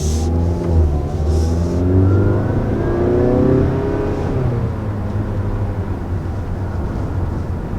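A 2020 Mazda CX-5 with the 2.5 liter Skyactiv engine accelerating from inside the cabin, a steady mid-pitched engine drone rising in pitch over road noise, with no talking.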